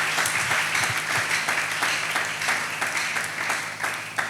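A church congregation applauding the Lord, dense continuous clapping from many hands filling the room, steady and fairly loud throughout.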